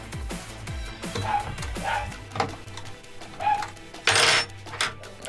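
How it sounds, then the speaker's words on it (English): Several dogs barking excitedly in a home workshop during a Logitech G29 brake pedal mod, with sharp repeated barks and yips scattered through, alongside clicks and clatter of tools on the pedal assembly. "As my dogs go absolutely nuts."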